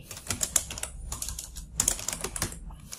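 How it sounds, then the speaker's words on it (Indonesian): Someone types on a computer keyboard, sending short bursts of crisp, close key clicks separated by brief pauses, with no speech. "Saya akan ketik di sini"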